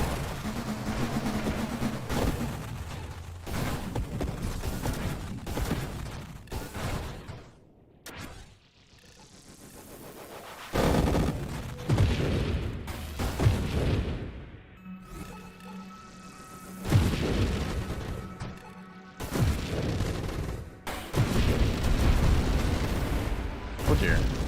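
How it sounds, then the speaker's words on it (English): Deep booming explosions go off repeatedly in the space shooter game Nova Drift, heavy bursts separated by short gaps, loud and near, with a voice talking in between. "Don't get stuck in the explosions."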